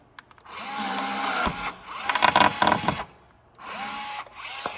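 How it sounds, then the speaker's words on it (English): A rivet tool works through a urethane front bumper while a Model 3 lip splitter is fitted, giving a sustained mechanical whir in several bursts with short pauses between them, close and fairly loud. "Now we're going to use our rivet tool."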